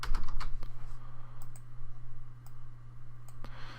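Mouse clicks on a computer while tidying code in the CodePen web editor: a handful of sharp, close clicks scattered over a low steady hum, with no speech.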